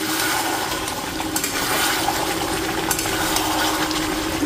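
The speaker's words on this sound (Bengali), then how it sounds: "আরামসে কষো, কষতে কষতেই নরম করে ফেলে দেবো একদম।" Meat sautéing in a pan for a Bengali curry, a steady broadband sizzle with scraping and stirring clatter running continuously and close at moderate loudness, with no voices.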